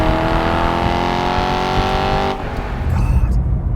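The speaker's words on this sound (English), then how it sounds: "What a bloody engine noise this is." A naturally aspirated V8 in a BMW E92 M3 sings a loud, sustained, rising engine note while driving, then drops off sharply as the throttle lifts, leaving lower road and engine rumble.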